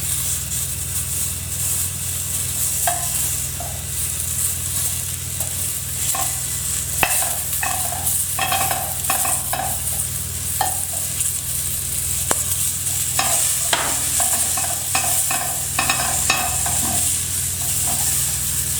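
Onion softening in a hot pan, a constant close sizzle and hiss with scattered pops and the scrape of stirring, no voices.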